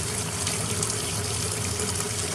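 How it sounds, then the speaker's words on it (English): Hot water from a sink tap rinses a clogged Audi/VW catalytic converter, a steady full gush of running and splashing water held at a constant level throughout. "I'm going to lightly rinse it with this hot water here."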